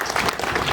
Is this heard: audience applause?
yes